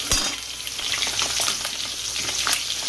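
Boiled eggs frying in oil in a pan with salt and turmeric added, a steady close sizzle with crackling pops and a few stirring scrapes, no voices.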